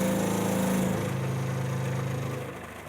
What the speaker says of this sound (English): We'll give some additional vibrations to shake off the excess powder.